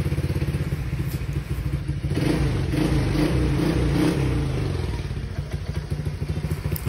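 A rebuilt Honda Click 150 scooter engine idles steadily after an overheating repair, a close, even putter with a light mechanical clatter and a brief swell in revs midway, no voices over it.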